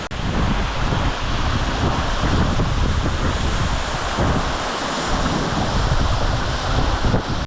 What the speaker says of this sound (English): the base of another waterfall